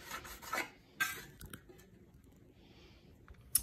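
A metal dough scraper cuts and scrapes through soft dough on a work surface for coiled pite, giving a few short scraping and knocking strokes, close and fairly quiet, with gaps of near silence between them.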